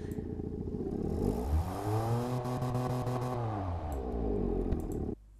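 Car engine in the Automation video game revving steadily, its pitch climbing, holding high, then falling back down in one continuous, fairly loud, synthetic-sounding run with no talking.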